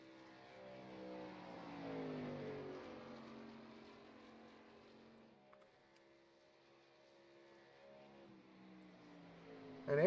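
Racing truck engines in the iRacing game at Talladega drone on faintly in the distance, a muffled pack whose pitch sweeps and fades before a louder rev swells right at the end.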